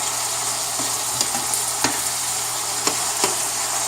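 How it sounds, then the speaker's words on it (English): Onions sautéing in a pan for a smoked herring dish give a loud, steady hissing sizzle throughout, broken by a few brief clicks and taps of a utensil against the pan, with no voices. "We're gonna let that saute a bit."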